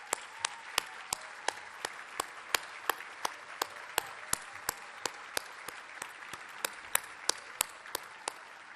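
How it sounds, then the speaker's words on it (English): Steady, evenly spaced hand claps ring out at a breakfast event as the crowd applauds young leaders standing at a back table, crisp and rhythmic over a low room murmur. "give them a big round of applause back there in the back"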